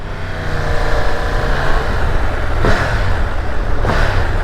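A 2023 Triumph Tiger 1200 GT adventure motorcycle engine hums steadily with a low, even drone, punctuated by two brief sharp bursts of noise.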